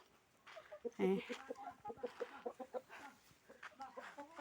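Chickens being fed cluck and chatter close by in a busy, uneven flurry, with a voice talking over them.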